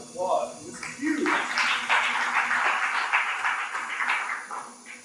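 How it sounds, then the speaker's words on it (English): Audience at a Texas House District 118 candidate forum applauding, a dense burst of clapping that swells after a brief spoken line and holds steady for several seconds before thinning out. "give yourselves a round of applause"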